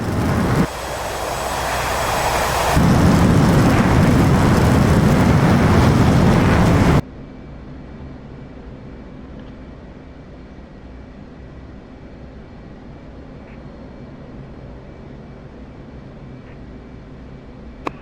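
Jet engine thundering at full power for a catapult takeoff from a supercarrier in a flight simulator game, a loud roar building and holding for several seconds, then abruptly cutting to a quieter steady cockpit hum.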